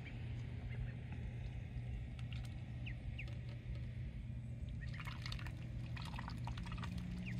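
Faint splashing and dripping water as a duck bathes, with soft flicks and sprinkles over a low steady hum.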